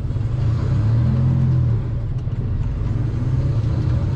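A car engine rumbles and revs up in Marseille city traffic, a steady close low drone that swells briefly before settling into a continuous hum.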